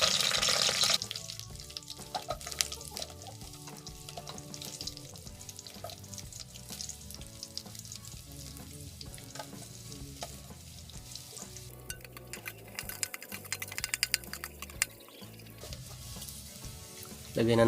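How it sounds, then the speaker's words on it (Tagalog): Chicken pieces from a native chicken sizzle and crackle in hot oil in a provincial kitchen, a steady frying hiss with intermittent stirring and clattering utensils throughout, fairly close. "magigisa na tayo"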